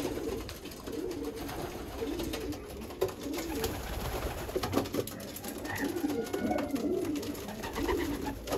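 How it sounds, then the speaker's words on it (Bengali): Racing pigeons coo continuously inside a loft, a dense flock of soft, low, overlapping calls at a steady moderate level with no talking. "এখানে সবগুলো আপনার রেসিং কবুতর"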